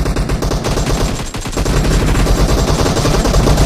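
Loud, continuous automatic gunfire from a PUBG match crackles in rapid, tightly packed bursts that fill the whole stretch, with only a brief dip in the middle.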